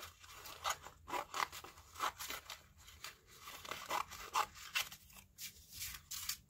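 Scissors snip through paper to cut out a doodled flower drawing for an artist trading card: a close, quiet series of short, crisp cuts in an uneven rhythm, with no talking.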